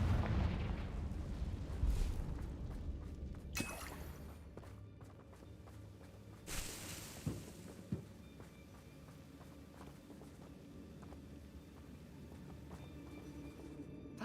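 A Confringo fire spell from the Hogwarts Legacy video game, played on Switch 2, bursts with a deep booming explosion up front, followed by scattered thuds and crackles that fade into a quieter rumble.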